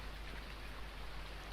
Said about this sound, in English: of course we can't, it's raining